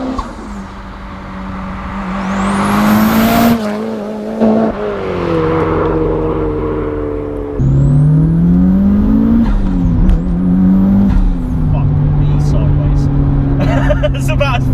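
A modified 501 bhp Mitsubishi Evo 7 accelerates hard through the gears, its engine note climbing and dropping at each shift, loud and close from inside the car, with turbo whistles and blow-off hisses between changes.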